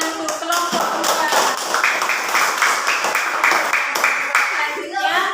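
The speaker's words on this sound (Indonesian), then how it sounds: "kita kasih tepuk tangan untuk kelompok 2" Students clapping for a group in a classroom, a dense patter of hand claps and taps running steadily throughout, fairly close and loud, with some voices mixed in.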